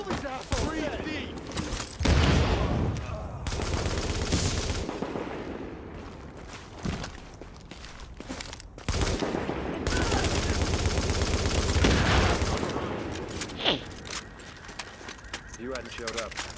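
A firefight in the shooter game The Division: bursts of rapid automatic gunfire crack in two long loud stretches with shorter volleys between, while voices talk over the battle.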